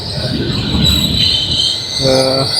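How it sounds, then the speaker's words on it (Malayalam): A train rumbles into a station in Germany, its wheels squealing with a high metallic whine, followed by a short horn-like tone. "സോ ഫൈനലി ഞങ്ങളുടെ ട്രെയിനാണ് വന്നുകൊണ്ടിരിക്കുന്നത്"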